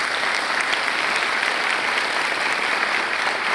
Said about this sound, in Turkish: Alkışlamayacak mısınız onu kardeşim?